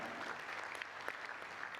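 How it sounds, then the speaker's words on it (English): Applause from the audience at an Indian food and nutrition panel event: dense, steady clapping filling the room at moderate volume for the whole stretch, with no voices over it. "Can we have a huge round of applause, everybody?"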